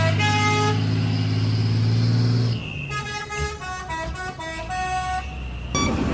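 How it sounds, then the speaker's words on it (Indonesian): A truck sounds its telolet horn, first a loud sustained blast over the engine, then a rapid run of bright, melodic toots before a final held note. "Gak cuman bus aja, ternyata truk juga ada teloletnya"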